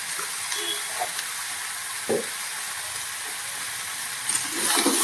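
Okra, tomato and potato sizzle steadily in an oiled pan, a continuous close hiss broken only by faint stirring clinks.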